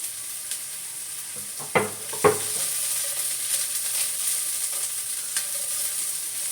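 Onion sautéing in a pan for kare-kare, a bright continuous sizzle with two sharp knocks of a utensil against the pan early on and light stirring afterward, close and without speech.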